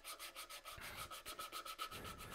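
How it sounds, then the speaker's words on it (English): Rhythmic scraping of hand sanding a walnut bowl on a lathe that is switched off, a steady back-and-forth rubbing with regular strokes, close up and moderately loud. "So whenever I have a void or something like that, I hand sand around that."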